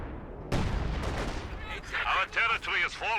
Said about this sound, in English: And now the Howie sees the forward retreat point, starts to barrage that.